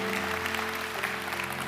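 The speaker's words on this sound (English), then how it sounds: "Now I want you to clap as if God is worthy." Church congregation clapping together during a sermon, a brief steady wash of applause with a low hum beneath it.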